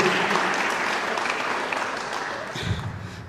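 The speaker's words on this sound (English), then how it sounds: "you deserve a great round of applause" Dense, loud applause fills a community hall at a youth cricket tournament media launch in Cape Town, a continuous crowd clapping that carries evenly before easing slightly at the end.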